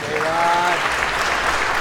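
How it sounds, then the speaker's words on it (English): A wrestling match crowd breaks into sustained, fairly loud applause, with a brief voice cutting through near the start before the clapping carries on alone. "you hear the crowd applauding"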